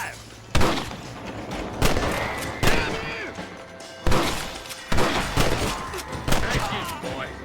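Sharp gunshots ring out in Red Dead Redemption, about seven loud reports spaced irregularly roughly a second apart, each with a ringing tail, over ambient game sound.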